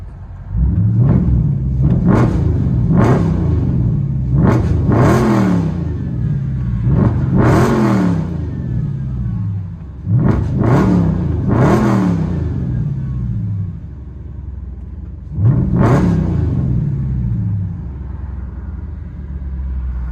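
A 2012 Chrysler 300 SRT8 with its 6.4-liter HEMI V8 and true dual exhaust on straight pipes revs hard, heard from inside the car: about seven loud, sharp throttle blips over a steady deep idle rumble, with no talk.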